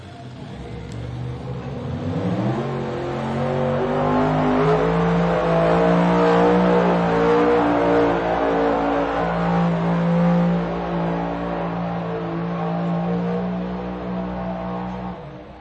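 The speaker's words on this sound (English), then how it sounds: "we see Mr. Joe Etter pilot this tractor down" Pulling tractor engine at an NTPA truck and tractor pulling championship in Bowling Green, revving up and holding a loud, steady roar with a strong low drone that swells and stays sustained throughout, heard alone without talk.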